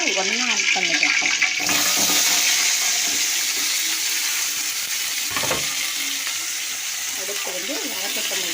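Chopped onion, tomato and garlic sizzle in a pan while cooking a lentil kulambu, a loud, steady frying hiss with some stirring, as someone talks over it.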